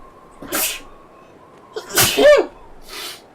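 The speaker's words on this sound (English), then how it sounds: "As I sneeze there, I did warn you, the pollen count is very high around here at the moment" Two sharp sneezes from one person sound close by in a quiet space, with a softer third breathy burst after them.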